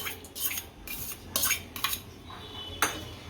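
A utensil scraping and clinking against a pan while stirring cabbage, carrots and capsicum with masala for momo filling: a series of uneven metallic scrapes and taps, close and fairly loud, with no talking.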